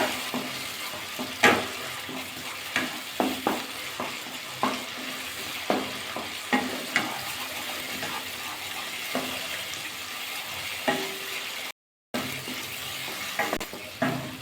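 Cauliflower and cashews fry and sizzle in a wok over steady heat, with repeated sharp scrapes and clacks of a spatula stirring through the mix at a steady rhythm.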